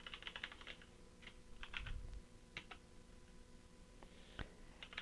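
Computer keyboard keys tapped in quick irregular bursts while entering commands on a Windows 10 machine, close and fairly quiet, with short pauses between clusters of clicks.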